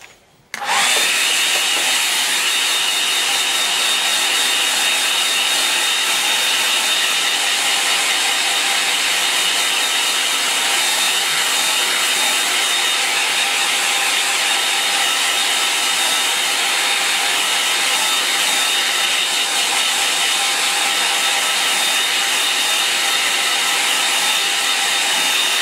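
A hair dryer blows steadily and loudly over a landscape painting of farm buildings, a constant close whooshing hum that starts abruptly and runs unbroken throughout.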